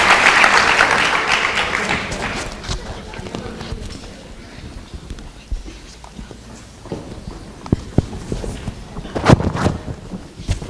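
Audience applause for a public schools panel at a community forum, loud broad clapping at the start that thins and fades into room noise and scattered sounds, with a few sharp knocks near the end.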